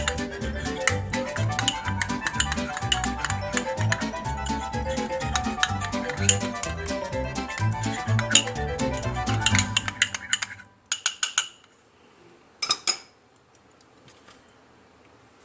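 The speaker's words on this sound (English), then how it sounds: "we're going to take our spoon. And we're going to stir until all of our ingredients are mixed in" A spoon stirs fruit-bite ingredients in a bowl for candy corn treats, giving dense, steady clinking and scraping for about ten seconds, then a few isolated taps before falling quiet.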